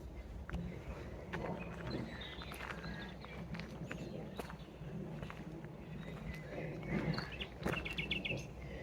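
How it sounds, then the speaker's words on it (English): Countryside birdsong near an abandoned railway station in Sussex: sharp chirps and trilling phrases repeat through the whole stretch, set over low rumbling background noise and scattered rustling. "Just come across a patch of amazing birdsong."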